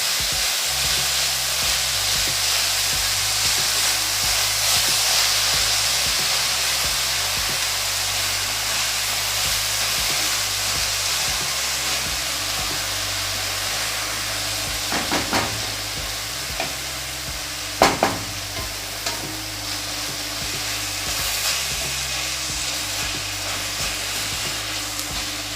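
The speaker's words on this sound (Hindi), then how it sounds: "मेथी को यहाँ पर चलाना है पूरा कितना 5 मिनट हाई फ्लेम पर।" Fenugreek leaves stirred and frying in a pan over a high gas flame for a methi chole dish: a steady loud sizzle with the scrape of a spoon, and a few sharper clatters near the end, no voices.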